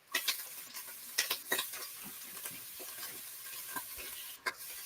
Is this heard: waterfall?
no